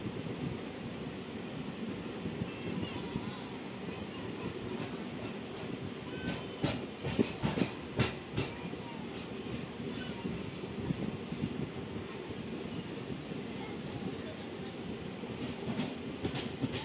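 A passenger train rolls along the railway between Dildarnagar and Mughalsarai on the way to Varanasi, its steady rumble and clickety-clack running throughout with a few sharper metallic clunks in the middle, with no talk over it.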